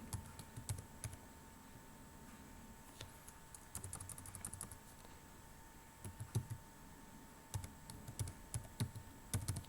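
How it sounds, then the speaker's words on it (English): Typing a password on a computer keyboard, with bursts of quick key clicks separated by short pauses, close and fairly quiet against a faint steady background hum. "I'm going to enter password."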